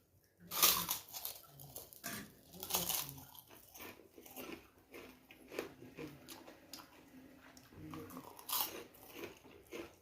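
Close, wet chewing and crunching of khichuri, irregular bites and soft mouth sounds at a slow pace, faint breathing in between, no talk.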